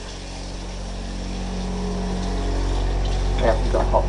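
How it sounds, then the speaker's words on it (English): Hot water running from a tap into a sink in a home, a steady broadband rush with a low hum, continuing throughout; faint speech-like sounds appear near the end. "let's put the hot water on the sink"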